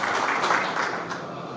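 A crowd gives a round of applause for Rodrigo Maia at the FPMaq launch event: dense, steady clapping close by that lasts the whole moment without a pause.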